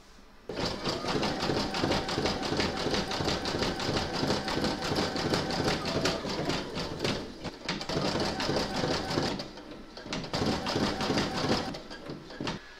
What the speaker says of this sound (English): we're now going to stitch round number 7, and that's going to do the zigzagging around the raw edges